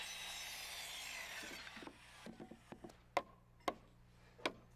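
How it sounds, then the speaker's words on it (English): A handsaw cuts wooden blocking for a medicine cabinet by a wall stud, soft rasping strokes giving way to a few sharp wooden knocks and clicks, close and fairly quiet. "Here I'm cutting blocking for the medicine cabinet. I push the board up against the stud and I cut it by eye."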